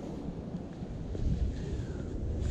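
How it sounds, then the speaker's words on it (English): Steady winter wind in New York's Central Park buffets the microphone in a low, rumbling roar, with a faint background wash and no voices. "It's a little windy."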